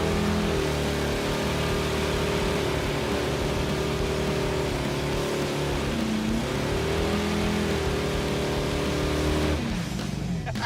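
A Dodge Dart with a 440 engine doing a burnout, the loud engine holding steady revs with small rises and dips for about ten seconds, then dropping off sharply near the end.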